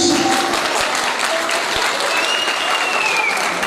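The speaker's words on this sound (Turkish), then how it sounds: "Niye alkışlamıyoruz?" A wedding crowd claps loudly and steadily throughout, with a sharp whistle rising over the applause near the end.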